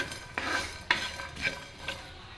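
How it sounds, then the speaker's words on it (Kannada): Spices, ginger and garlic being stirred and roasted in a pan for a Mangalore-style chicken masala, with four distinct scraping strokes of a spoon over a soft sizzle, close up and without talk. "ಆಮೇಲೆ ಅದ್ರ ಮೇಲೇ ಶುಂಠಿ ಮತ್ತು ಬೆಳ್ಳುಳ್ಳಿ ಹಾಕ್ಕೊಂಡು ಒಂದು ಸಲ ಚೆನ್ನಾಗಿ ರೋಸ್ಟ್ ಮಾಡ್ಕೋಬೇಕು"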